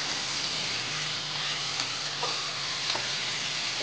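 Chicken or goat liver (kaleji) with tomatoes frying in a pan, a dense continuous sizzle close up, with a few faint clicks of a utensil, steady throughout and no talking.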